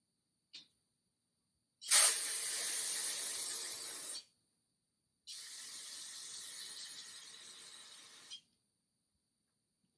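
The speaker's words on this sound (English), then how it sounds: "Love the spray clean." Two long hissing bursts from an aerosol can of brake cleaner while rebuilding a Ford 7.3 injector, the first louder and about two seconds long, the second slightly softer, with a short pause between.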